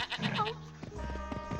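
Goat bleating in the Ed Edd n Eddy video game The Mis-Edventures, a short wavering cartoon bleat followed by a tonal game music sting, clear and close.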